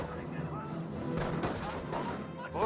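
MG42 machine gun fire in the World War II strategy game Company of Heroes, a continuous rattle of shots mixed with distant battlefield booms and a steady backdrop of combat noise, with a voice talking over it.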